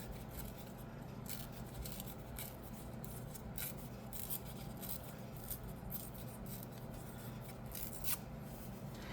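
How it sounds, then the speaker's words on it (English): Cut edges of magazine paper being torn off by hand, a series of quiet, quick ripping bursts at irregular intervals over faint background noise. "I'm gonna tear off the cut edges."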